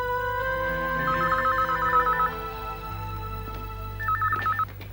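Telephone ringing indoors in two short warbling bursts, one near the start and another about three seconds later, moderately loud over a quiet low hum with no voices.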